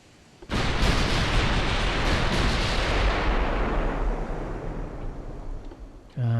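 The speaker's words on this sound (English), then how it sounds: "Okay, reloaded. Let's fire." Naval guns firing in the warship game Ultimate Admiral: Dreadnoughts: a sudden heavy boom opens into a long rolling roar that slowly fades, then a second blast hits right at the end.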